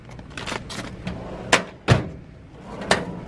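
A drawer of a medical supply cart slides open with a rolling rattle, punctuated by several sharp knocks and clunks as it moves and stops, close and fairly loud.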